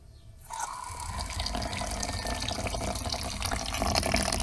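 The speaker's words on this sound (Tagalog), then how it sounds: "Lagyan po natin kaunting tubig." A small amount of water is poured in, starting after a brief quiet moment and continuing as a steady, close splashing stream to the end.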